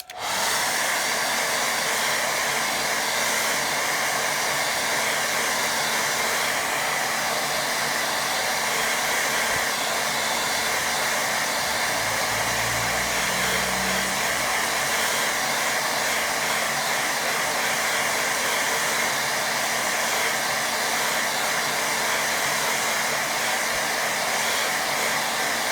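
A hair dryer blows steadily over a watercolour painting of a windmill, a loud continuous whooshing hiss that runs unbroken throughout without any talk.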